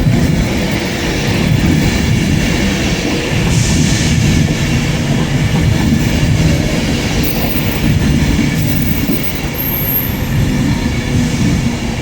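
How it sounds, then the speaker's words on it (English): A Pendolino train rolls through Stockport station, a loud, continuous rumble of wheels on rail with rattling carriages and brief high squeals, heard close by and steady throughout with no voices. "And a Pendolino to join in the fun as well."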